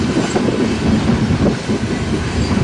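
A freight train rolls past close by in Fremont, Nebraska, with a CP locomotive pushing at the rear, its wheels clattering loudly and continuously over the rails.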